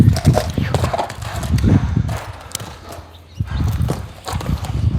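A six-year-old Karabair cross horse, 165 cm tall, moves about in Uzbekistan. Its hooves clip-clop in an uneven rhythm, close and fairly loud, with faint voices now and then.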